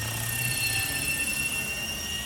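A helicopter rotor spins at 1,000 RPM during a tail-hold test, giving a loud, steady whine with a constant high-pitched tone that runs without a break and with no talking.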